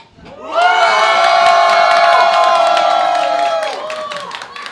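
A large crowd cheers and claps loudly for the fighting robot Haymaker at a Robot Rampage event, a sustained roar of shouts and applause that swells in and then eases slightly toward the end.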